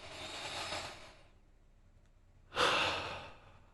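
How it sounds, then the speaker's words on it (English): Slow deep breathing: a long, soft airy inhale fading into silence, a pause, then a stronger, breathy exhale close to the microphone. "simply deep breath in and notice breath out."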